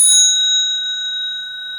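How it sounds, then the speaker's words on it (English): An Otis elevator bell rings with one sharp strike, then a bright, steady metallic tone that holds and slowly fades over nearly two seconds, close and loud with no talking. "In the middle here we have an Otis bell."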